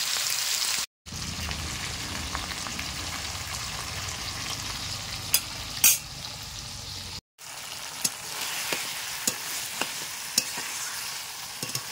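Meat sizzling in oil with onion and ground spices, a continuous close frying hiss with scattered sharp clicks and scrapes of stirring, cut by two brief silent breaks.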